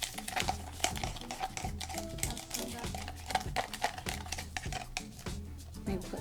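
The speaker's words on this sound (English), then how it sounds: "I'm going to use a spatula just to mix it." A spatula stirs glitter through a mixture for a glam lampshade, giving steady scraping and tapping strokes against a container that repeat in a loose rhythm, close and moderately loud, with a low looping background hum underneath.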